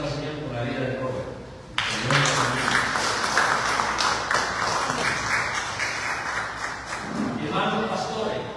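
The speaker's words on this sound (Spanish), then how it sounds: "vamos a darle un aplauso al Señor por la vida de Robert." A church congregation bursts into applause after a stretch of speech, a sudden loud, dense clapping that lasts several seconds before speaking resumes over the dying claps.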